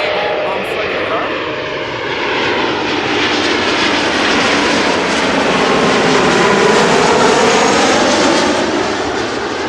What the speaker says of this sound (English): Embraer 190 arriving from Toulouse in France. KLM flight 1302.